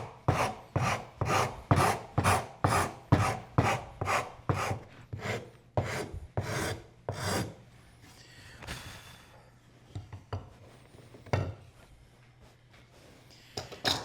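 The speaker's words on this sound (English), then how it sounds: "I think I can hog it off with the rasp" A wood rasp files rapidly across a wooden workbench vise part during a bench build, giving a run of steady rhythmic scraping strokes, close and fairly loud, that slow and thin out into quieter scattered rubbing.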